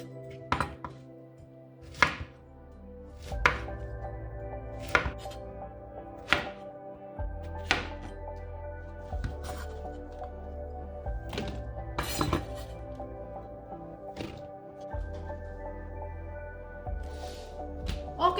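A knife chops zucchini on a cutting board in repeated sharp knocks, sometimes in quick bursts and sometimes spaced apart, with background music playing underneath.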